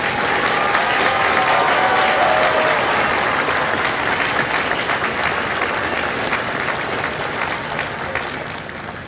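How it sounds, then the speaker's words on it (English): A large crowd applauds the company staff at a Marine Corps Recruit Depot San Diego recruit graduation ceremony, dense sustained clapping filling the space and slowly thinning toward the end. "please join me in a round of applause for the company staff of Company A."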